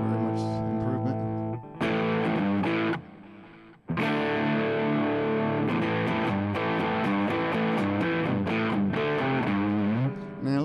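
Distorted electric guitar played through an Air Apparent distortion pedal model on a Line 6 HX Stomp, loud sustained chords and riffs with a brief drop to quieter ringing around the third second, then full crunchy playing to the end.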